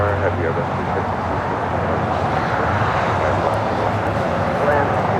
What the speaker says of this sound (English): Delta Airlines Flight 516 coming up from JFK at 767 at 300ER, touching down here on the south side